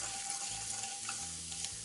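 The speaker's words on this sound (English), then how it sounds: "And look at that, they've already started bubbling up and everything." Coriander seeds sizzle in a hot pot on medium-high heat, a dense steady hiss with a low rumbling bubble underneath, close and uninterrupted by speech.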